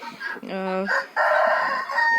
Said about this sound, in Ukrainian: У нас три півня.